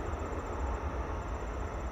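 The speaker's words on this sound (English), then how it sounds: "that is a train going by" A passing train near a river makes a loud, constant rumble with faint rhythmic clatter from the rails, close by and steady.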